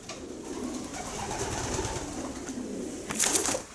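A racing pigeon coos softly at close range with low murmuring calls, followed near the end by a brief louder flutter or rustle.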